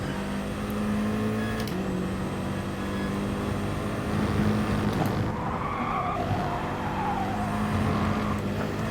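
Car tyres skidding with understeer in the GT Sport racing game, a loud continuous engine drone with a sustained squeal of sliding rubber that shifts pitch partway through, no talk.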